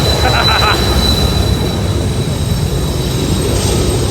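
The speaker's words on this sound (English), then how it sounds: "and got a train coming by." Train rolling past beneath the 10 freeway overpass, a steady loud rumble with faint wheel squeal, close by and continuous throughout.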